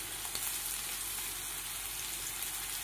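Green chillies fry in a pan for egg chowmein, producing a soft, continuous sizzle with a few faint crackles, steady and fairly quiet.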